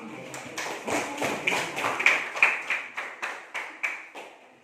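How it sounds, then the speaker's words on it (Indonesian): A classroom group clapping hands in a quick series of about a dozen sharp, fairly close claps, loosely in rhythm and ending in a few last spaced claps. "tepuk tangan dulu sama"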